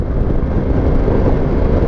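Steady, loud engine drone from a Yamaha XMax scooter being ridden, a dry 125-like note that holds constant throughout with no voices.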